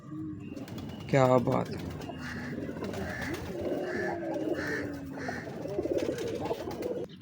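Ferozpuri pigeons, old prized birds, coo softly and repeatedly at close range while someone talks over them in an excited voice.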